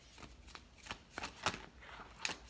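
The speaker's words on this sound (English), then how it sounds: "I'm going to pull one more card to just seal this reading." Tarot cards being shuffled by hand for a Leo reading, a soft papery riffle of repeated flutters and slaps at an uneven rhythm, close and quiet with no talking.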